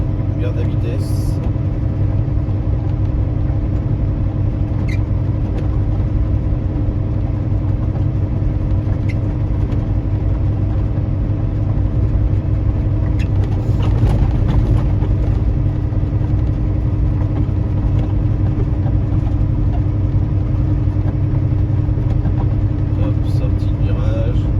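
A car's engine drones evenly from inside the cabin as it holds speed through a bend on an isolated snowy road, a constant low rumble without acceleration.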